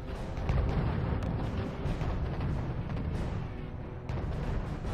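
Pushka guns in the wartime strategy game RUSE fire in a dense, continuous barrage of low rumbling booms and distant battle noise, steady and moderately loud.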